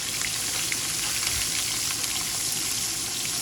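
A pot of soup with luffa and moringa bubbles and hisses steadily up close, a continuous simmering rush with no talk.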